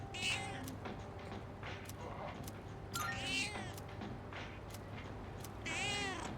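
A cat meows in the Persona 3 Reload video game, three short clear meows spaced apart over a quiet, steady game background.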